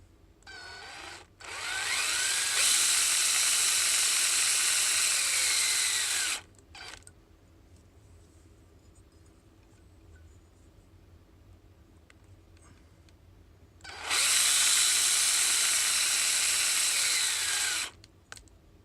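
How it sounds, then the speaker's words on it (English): A drill whines loudly in two long bursts of about four seconds each, drilling out the screw posts of a diecast Shelby GT500 model car for tapping, separated by a quiet pause with faint background hum. "Now we'll finish drilling out the posts for tapping."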